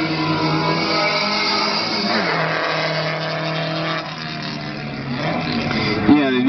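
Alfa Romeo rallycross car, a former 2009 X-2 class championship winner, at a 2010 rallycross event in Lovech, with a steady engine drone that builds to a sharp rev near the end, heard under a commentator's voice.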